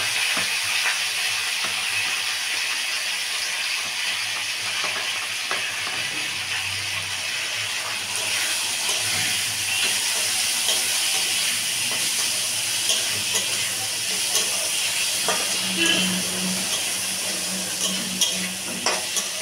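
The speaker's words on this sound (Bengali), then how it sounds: "এবার এর মধ্যে দিয়ে দেবো ধুয়ে রাখা মসুরের এই যে ডালটা।" Red masoor lentils hit hot spiced oil that has browned, giving a steady, bright sizzle and crackle with scraping stir noises throughout, close and continuous.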